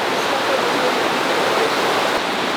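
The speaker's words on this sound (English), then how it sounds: "They got the river right here, which is kind of nice." A river flows beside an Alaska campsite, producing a loud, unbroken rushing roar with no voices over it.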